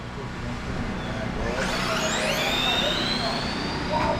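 Radio-controlled drag racing cars launch and scream down a drag strip at a cash-days event, a rising high-pitched whine sweeping upward over steady crowd and outdoor noise, with people talking in the background.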